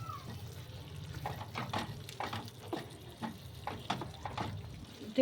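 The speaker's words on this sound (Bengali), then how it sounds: "ভাজা মশলাটা মিশিয়ে দিচ্ছি" A spoon stirs roasted spice mix through a potato and pea curry in a pan, giving repeated soft scraping strokes with a gentle sizzle underneath, close and moderately loud.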